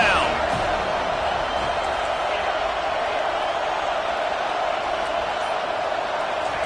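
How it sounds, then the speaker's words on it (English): A football stadium crowd roars steadily behind the defense on third down at an NCAA game, a dense, sustained wall of distant cheering and noise that holds loud throughout with no clear breaks. "Decibels rising as the crowd gets behind this defense on third down."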